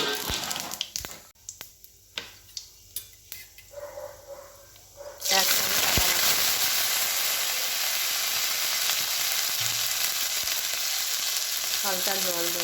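A chilli drops into hot oil in a home kitchen while cooking a vegetarian banana-flower curry, setting off a sudden loud, steady sizzle that follows a few scattered kitchen clicks and taps.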